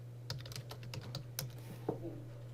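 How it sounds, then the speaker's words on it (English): Rapid, uneven clicks of a computer keyboard being typed on, fairly close and moderately loud, with a steady low hum underneath. "when I'm up here typing"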